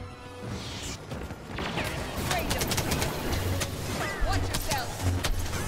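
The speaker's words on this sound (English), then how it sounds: "I was shooting you!" Gunfire in the Star Wars Battlefront video game, rapid blaster-style shots and bursts over busy battle noise, with voices talking over parts of it.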